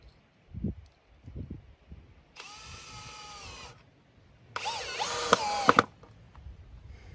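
A power drill drives screws into a mailbox post outdoors in two sustained whirring runs, the second louder and ending in sharp clicks, preceded by a few soft knocks.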